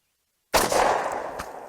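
A single sharp gunshot from a Standard Manufacturing S333 Thunderstruck double-barrel revolver with inch-long barrels, fired outdoors about 20 feet from a target; one loud crack with a decaying tail and a faint later echo.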